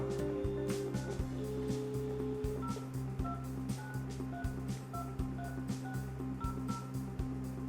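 Dialing out from an extension on a Panasonic KX-HTS824 hybrid IP PBX telephone system: a steady dial tone under a series of short rhythmic key beeps, moderately loud and close, with faint talk in the background.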